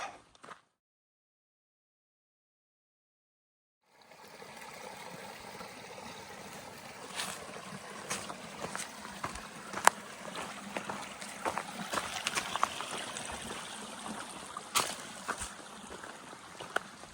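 Wilson's Creek on the Appalachian Trail: a steady, moderate stream rush with small splashes and clicks, heard close after a few seconds of silence.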